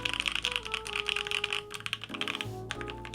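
Fast bursts of typing on an Obliterated 75 mechanical keyboard fitted with Tangerine switches, crisp clacky keystrokes in quick runs with brief pauses, close up and alone.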